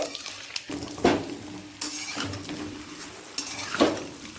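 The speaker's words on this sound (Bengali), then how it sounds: "এর মধ্যে আমটাকে দিয়ে হালকা করে ভেজে নেব" Mango pieces frying in a pan with panch phoron and dried red chillies for jaggery mango pickle: a soft sizzle beneath repeated close scrapes and clinks of a spatula stirring against the pan.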